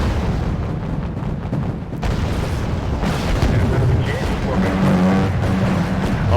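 Naval guns fire and shells strike enemy ships in the Wargame: Red Dragon strategy game: a dense, continuous barrage of loud booms and blasts that goes on throughout, with a voice talking over it.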